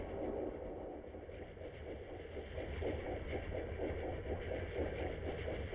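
A fast warship engine, at medium speed and closing, picked up on submarine sonar in Silent Hunter 4: a faint, steady hiss of white noise with a low, rhythmic mechanical throb pulsing underneath, no voices.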